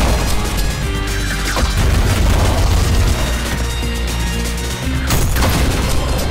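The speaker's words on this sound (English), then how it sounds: "the parrying does cause an explosion, which means all the health I get back from punching, I immediately lose because of the explosion" Loud, dense blasts and crashing impacts from parrying in the ULTRAKILL shooter game, layered over a pounding music track and continuous heavy effects, with a sharp burst near the end.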